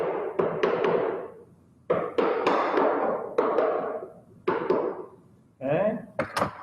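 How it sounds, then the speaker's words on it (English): Hammer tapping wood while repairing a double hung window, five clusters of sharp knocks with quick double and triple taps, close and distinct, spaced about a second apart. "This is where a hammer comes in."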